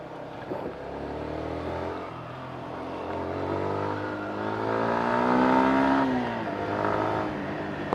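2019 Yamaha Sniper motorcycle engine under riding, a steady buzzing drone that rises in pitch as the bike accelerates through the gear, then eases off, heard close with wind noise and no talk.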